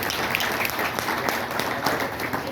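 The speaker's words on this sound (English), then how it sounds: "yes, please give her applause." Steady, dense audience applause greets a model on stage at a rockabilly vintage fashion show in Ohio, even in level throughout with faint crowd murmur beneath.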